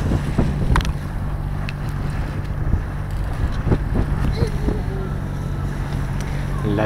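A sailboat's motor drones steadily beneath wind buffeting the microphone, with water sloshing and occasional clicks and knocks nearby, in light wind at sea near Pasaia.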